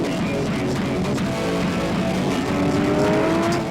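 A Porsche 911R powering out of a chicane at full throttle, its engine loud and steady with a climbing pitch, a continuous close roar of race-track acceleration with no talk.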